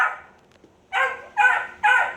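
Dogs bark inside an animal shelter stray hold building, three loud close barks in quick succession after a brief quiet lead-in.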